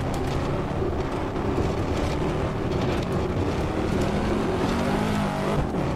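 Corvette C7 Stingray lapping through the Karussell banked corner at the Nürburgring in the racing game Assetto Corsa, a steady loud engine drone with tyre and road rumble throughout, no talk.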